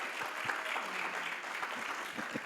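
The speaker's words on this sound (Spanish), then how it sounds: "Un aplauso para el Señor" A church congregation applauds together at a religious conference, a steady wash of many hands clapping at moderate loudness, fairly even throughout with no voices standing out.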